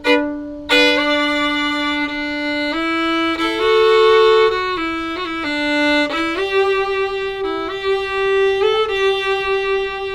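A fiddle plays the opening phrase of a simple country-style melody, a string of sustained bowed notes with slides between pitches, clear and close, with no talking.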